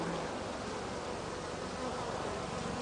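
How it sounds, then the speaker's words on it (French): Small swarm of honeybees, heard as a dense, steady, faint buzzing hum without a break and without any voices. "c'est un petit essaim, hein, tout petit, il n'y a pas beaucoup d'abeilles."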